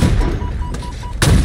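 A sniper rifle shot in the video game Halo Infinite cracks out as a sharp burst at the end, following softer game sounds, with a brief faint voice.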